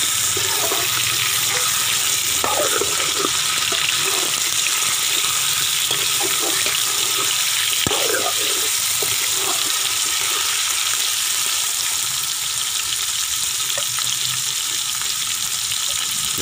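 Chicken pieces frying in a pan with cinnamon, cloves, black pepper and green cardamom for a chicken bhindi masala, a steady close sizzle with scattered pops and crackles running throughout.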